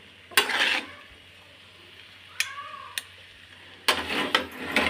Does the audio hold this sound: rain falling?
no